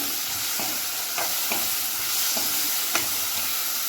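Mustard paste sizzles in the oil left from frying pabho fish, with a constant frying hiss and a few light spatula taps and scrapes as it is stirred.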